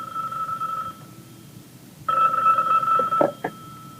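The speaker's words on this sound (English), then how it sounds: "Linda, his secretary, answers the phone." A telephone rings in two electronic trills, the first fading out, the second starting again after a short gap and ending as a click cuts it off in a quiet room.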